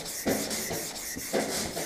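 Hand sanding of body filler on a car bumper with 240-grit sandpaper in a garage: close, steady rubbing strokes in an even back-and-forth rhythm, with no talking.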